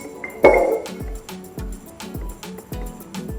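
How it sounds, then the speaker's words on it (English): Water is poured into a narrow-necked glass container for rooting pothos cuttings, opening with a bright clink and then settling into a series of soft drips and small glassy taps. "Just fill it up with water."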